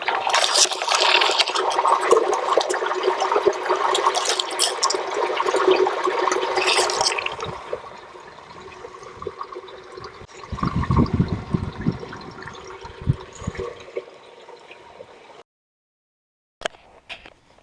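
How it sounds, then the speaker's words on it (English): Water rushing and gurgling steadily out of a deep drainage hole in rocky outdoor ground, loud and close at first, then a lower churning flow before it cuts off. "How much noise can come from one little drainage hole?"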